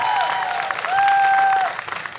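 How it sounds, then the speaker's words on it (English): Graduation audience applauds the class of 2024 at a community college commencement, a loud sustained wash of clapping with a faint tonal whine running through it. "can we give a round of applause to the class of 2024?"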